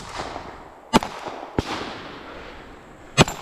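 Three sharp SIG 226 SAS pistol shots ring out at a practical shooting stage, spaced unevenly over a few seconds, loud and close with short echoing tails.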